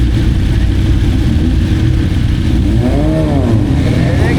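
Racing motorcycles ride a sighting lap on a race track, a loud continuous engine drone that fills the whole stretch, with rising revving tones near the end as the bikes accelerate.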